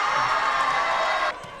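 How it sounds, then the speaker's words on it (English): A crowd cheers at a New Zealand secondary schools girls' basketball final between Westlake Girls' High and Hamilton Girls' High, a broad, loud indoor roar that holds steady and then drops off sharply. "Crowd reception here for both of these teams."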